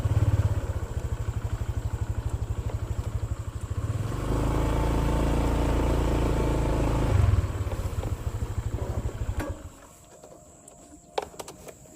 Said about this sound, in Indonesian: motornya mau saya alihkan dulu